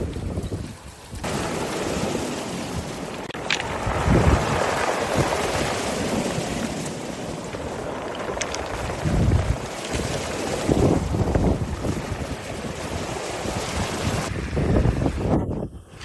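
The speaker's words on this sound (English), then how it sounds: "Today the waves are agitated accordingly" Rough Black Sea waves at Sosnovoe beach near Gelendzhik roar continuously with heavy wind buffeting the microphone, surges swelling and breaking close by, no voices.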